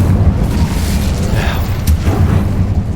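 Incendio fire spell cast in the Hogwarts Legacy video game, a dense, sustained roar of rumbling, crackling magical burst effects filling the whole moment at steady loudness, with no clear separate hits.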